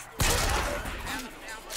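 Enemy gunfire in the video game Bioshock Infinite, a sudden loud burst of shots that opens sharply and then trails off into a ringing echo, with a voice heard alongside.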